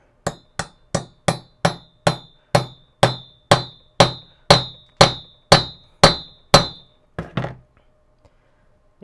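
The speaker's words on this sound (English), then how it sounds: "then you just sort of tap it in there." A hammer taps a U-joint into the driveshaft yoke of a Jeep Wrangler TJ front driveshaft: about fourteen sharp, evenly spaced metallic strikes in a steady rhythm, close and loud, then a brief pause and two final blows.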